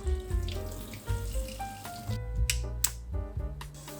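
A Brita On Tap faucet-mounted filter sprays tap water in its wide, shower-like spray mode, the kind used for rinsing vegetables and fruit; a steady hiss of water runs under musical tones, with a few brighter splashy bursts.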